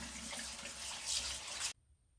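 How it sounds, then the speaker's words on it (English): Cold tap water runs hard into a sink over cubed fish, a loud steady gush that cuts off abruptly near the end, leaving near silence. "just rinse it in really cold water a couple of times"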